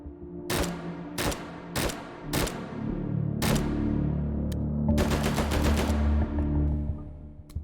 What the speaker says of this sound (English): This gun also has a burst fire mode that can spit 3 rounds down range before recoil takes effect.